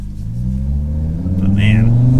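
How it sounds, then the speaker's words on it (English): A modified Audi RS3 accelerates, its engine note rising steadily and loud over about two seconds, with a brief higher whine near the end. "Let's do one more acceleration"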